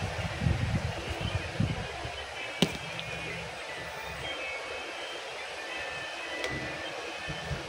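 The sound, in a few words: strong wind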